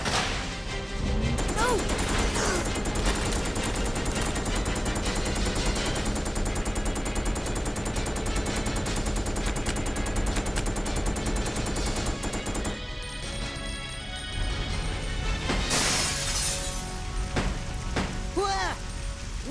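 Rapid gunfire in the survival horror video game Resident Evil Code: Veronica, a loud continuous burst of automatic shots followed by a few scattered impacts and crashes near the end.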